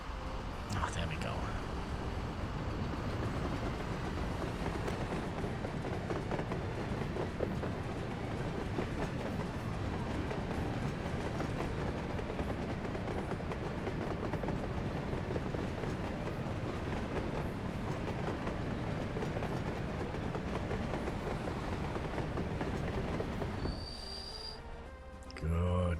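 A locomotive rolls steadily along the rails in Workers & Resources: Soviet Republic, a dense continuous rumble with faint clickety-clack, alone and unbroken for most of the clip before cutting off near the end.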